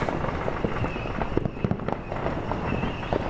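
Fireworks popping and crackling at a distance over the Jersey Shore bayshore, near boat masts, sharp bursts scattered irregularly over a steady crowd-like background rumble.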